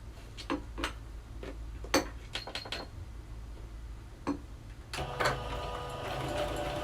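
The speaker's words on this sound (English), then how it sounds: "just make sure to stop the sewing machine" A sewing machine stitching denim hums low and steady under scattered sharp mechanical clicks and taps, building into a busier whirring run near the end.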